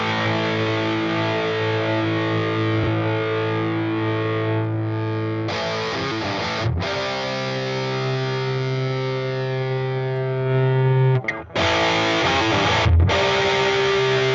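Distorted electric guitar run through a Mooer GE300 amp and captured with a blend of two microphones, a U87 and an AKG C414, sustaining thick held chords and notes with a few brief breaks, loud and unaccompanied.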